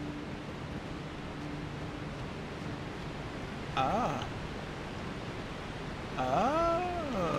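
Steady rushing water in the Elden Ring game world, a broad continuous wash running the full length, with a voice speaking briefly over it.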